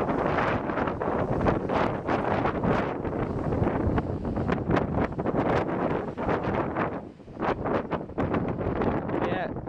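Outdoor wind buffets a microphone continuously in gusty rustling bursts as big raindrops begin to fall, a dense, loud roar with rain pelting throughout.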